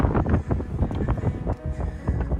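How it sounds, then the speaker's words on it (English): Strong wind gusting across an exposed edge at Fort Laramie, loud rumbling buffeting on the microphone with irregular surges throughout, no talk. "So you can tell the wind's blowing pretty strong today"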